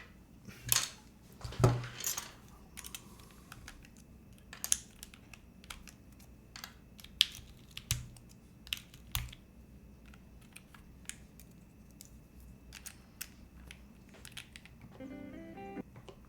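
Typing on a Blade60 mechanical keyboard fitted with ABS keycaps, heard up close as scattered clacky key presses with a slight metallic ring from the case and a quick burst of keystrokes near the end.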